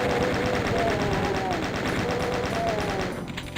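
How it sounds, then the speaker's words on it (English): Chaingunner enemies in the game Amalgoom, a Doom-style shooter, open fire with chainguns, producing a dense, loud, continuous rattle of rapid shots that eases slightly near the end. "this one's gonna teleport me in front of some chain gunners"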